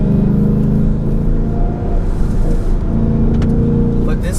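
A 2019 Ford Mustang GT with the PP2 package drives the winding mountain road of the Tail of the Dragon, its V8 a loud steady rumble close inside the cabin, easing briefly and picking up again.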